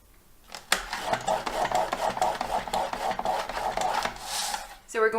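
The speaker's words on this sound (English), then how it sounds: "So I'm going to line up the 2 points along the cutting edge or the scoring edge of my trimmer." A card being scored on a paper trimmer's scoring edge, a close rhythmic scraping and rubbing over several seconds with a voice faintly under it.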